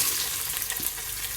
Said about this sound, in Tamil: வெங்காயம் நல்லா வதங்கட்டும். ஒரு கோல்டன் ப்ரௌன் ஆகிற வரை நம்ம வதக்குவோம்.